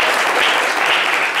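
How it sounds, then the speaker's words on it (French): Dense audience applause fills a studio variety show, a steady wash of many hands clapping at full volume throughout, with no voices over it. "on peut l'applaudir très très fort"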